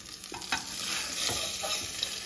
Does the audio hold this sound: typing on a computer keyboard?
no